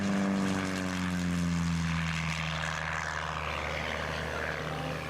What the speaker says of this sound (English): Can you see the airplane, TD? You see it?